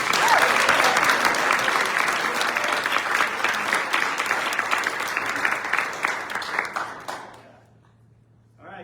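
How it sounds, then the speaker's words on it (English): Sustained applause from a crowd at a school athletics banquet, loud and steady for several seconds, then thinning out and fading to quiet near the end. "please help me give a round of applause to all of our soccer players"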